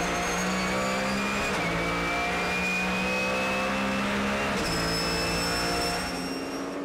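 Porsche GT3 Cup race cars from the 2011 series at Manfeild Raceway, loud continuous engine roar with rising and shifting revs as they drive off a hairpin, steady and close throughout with no talk.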